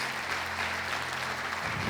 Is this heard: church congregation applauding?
yes